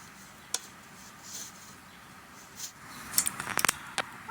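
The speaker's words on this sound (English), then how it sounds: "I'm going to cut this seam off in order to keep the seam for the other part of the sleeve" Scissors cut a seam off a shirt sleeve up close, a few scattered snips early, then a quick cluster of sharp clicks near the end over a quiet background, with no talk.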